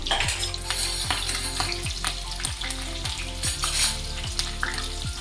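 Cumin, green chilli and curry leaves crackle and sizzle steadily in hot oil in a kadai, a close, continuous frying hiss with faint stirring and clinks, no talking.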